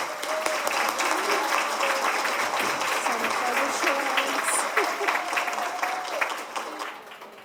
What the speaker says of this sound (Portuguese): uma salva de palmas para Jacira Geser Krieger